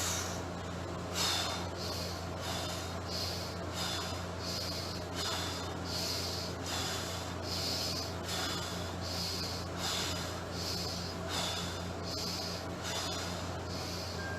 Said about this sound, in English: let's do 10 big breaths here, inflating the belly big and squeezing it closed like a bellows